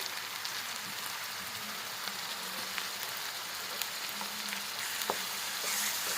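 Chopped onions fry in a pan, giving a dense, even sizzle, close and steady throughout, with a few faint clicks from the pan.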